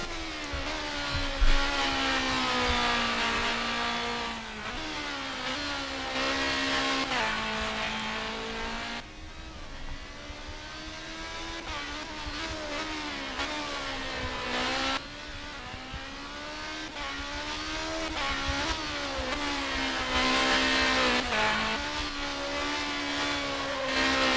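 Touring race cars lap the Hungaroring in a continuous loud engine drone, revving up and down through gear changes, with several cars overlapping and steady track noise throughout.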